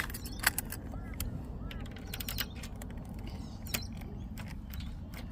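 Keys jangle and click faintly against a door lock as someone tries to open it, with sporadic sharp metallic taps over a quiet background.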